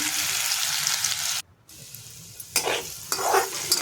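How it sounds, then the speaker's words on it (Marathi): Chilli thecha is sautéed in oil in a kadhai, a loud crackling sizzle with a brief lull and scraping stirring strokes. No one speaks. "आपण हा आता बनवलेला ठेसा छान असा परतून घ्यायचा"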